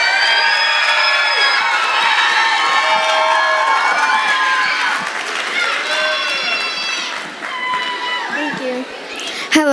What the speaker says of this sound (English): I want you guys to give a huge round of applause for Fratney